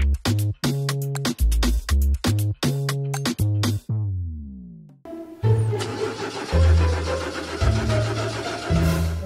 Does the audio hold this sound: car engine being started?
yes